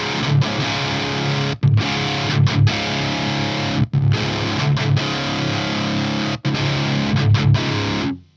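A high-gain electric guitar plays through channel 2B of a Hughes & Kettner TriAmp Mark III, saturated and loud, chugging riffs broken by several sharp stops and choked rests.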